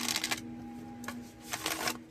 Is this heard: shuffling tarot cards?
yes